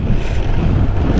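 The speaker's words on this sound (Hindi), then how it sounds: "बहुत ही तेज़ हवाएं चल रही," Strong wind roars and buffets the microphone outdoors in the Kinnaur valley of Himachal Pradesh near Chitkul and Sangla, a loud continuous rumble with no pauses.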